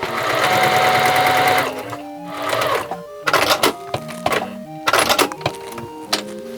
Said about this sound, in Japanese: 布にちょっと短めにした裏地にする布を縫い合わせます